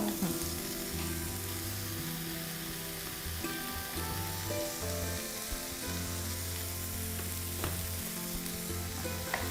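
Egg frying in a pan with a steady, close sizzle throughout, mixed with occasional soft stirring and utensil clicks, no talk.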